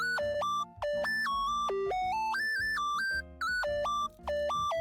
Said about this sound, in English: Sorry guys, that was my phone.